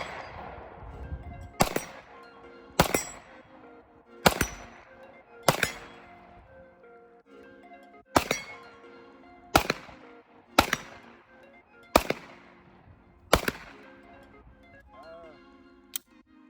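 Walther PDP Compact 9mm pistol firing about ten single shots at irregular intervals, each a sharp loud crack with a brief decay, outdoors at close range.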